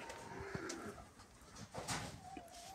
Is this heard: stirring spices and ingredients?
no